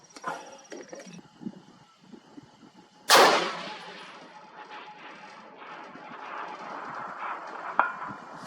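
A single loud, sharp report from a Stag Arms semi-automatic rifle in 6.5 Creedmoor on a long-range course, with a decaying echo trailing off. Quiet voices murmur faintly before the shot and a faint distant ping sounds near the end.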